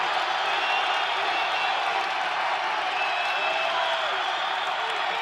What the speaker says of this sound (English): Crowd is on their feet.